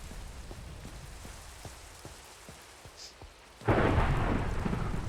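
A Minecraft lightning storm: light rain patters with soft ticks, then a sudden loud crack of thunder bursts in and rolls on as a heavy, sustained roar that fills the rest of the moment.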